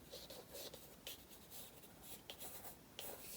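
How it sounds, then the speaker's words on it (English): Pencil drawing quick lines across paper while sketching distant hills into an abstract acrylic and mixed media landscape, a close, dry scratching in short strokes with brief pauses between them. "Make a few pencil lines out here."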